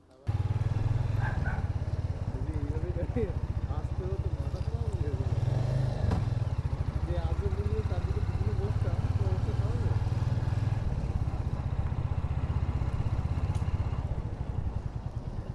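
A motorcycle rumbles steadily along a long hill road on the way from Siliguri to Lava, its engine loud and close throughout with wind buffeting, and no one speaking over it.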